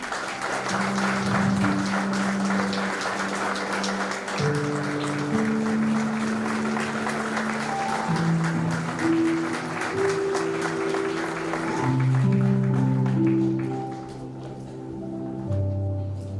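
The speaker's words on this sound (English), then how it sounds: "Please give a round of applause." Crowd applause at a national law fest ceremony, steady clapping across the hall with music playing along, fading near the end.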